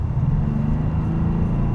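A 275-horsepower Maserati Ghibli diesel engine running, heard as a low, steady rumbling drone with a smooth, even throb and nothing else over it.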